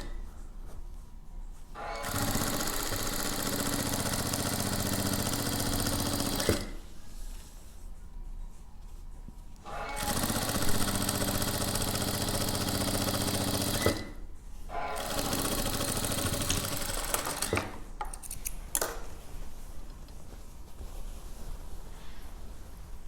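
A sewing machine stitches a single-bed bedspread in three long runs of steady, loud whirring, broken by short pauses and followed by softer handling noise near the end.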